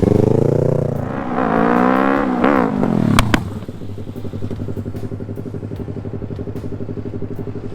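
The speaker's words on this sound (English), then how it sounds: "that's a loud exhaust. Sounds like a gunshot going off." Loud motorcycle engine revs up and down, lets out two sharp gunshot-like exhaust cracks, then settles into a throbbing, rumbling idle.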